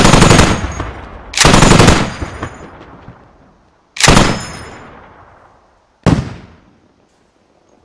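Machine gun fire in a video game against an enemy HAB, three loud close bursts of rapid shots each trailing off into a decaying echo, followed by a single sharp blast.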